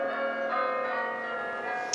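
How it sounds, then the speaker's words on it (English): Catholic church bells ringing out across a city to celebrate a new Pope, a sustained metallic ringing tone with overlapping strikes at moderate distance, no voices. "bells rang out at Catholic churches across the city in celebration of the new Pope"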